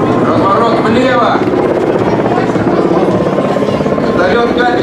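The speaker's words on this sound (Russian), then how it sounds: "Вертолет К-52." A Ka-52 helicopter performing a flying display, its loud continuous rotor thrum and turbine roar filling the whole stretch and shifting slightly as it banks, with a commentator's voice faintly underneath.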